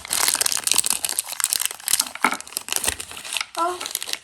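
Small scissors snip open a gift packaging from an Advent calendar, with steady plastic crinkling and crunching close up, a few sharper tearing bursts, and a voice briefly speaking near the end.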